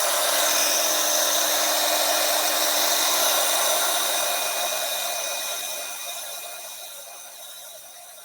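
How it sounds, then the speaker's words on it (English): A heat tool blows hot air in a steady, loud whoosh with a faint whine, then gradually quietens toward the end, with no talking. "start your heat tool for a couple seconds before you start applying it"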